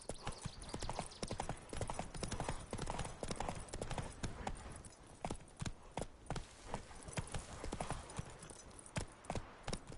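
Roach, the horse in The Witcher, trots at a steady pace, and hooves clop in a quick, even rhythm throughout at close range with no one speaking.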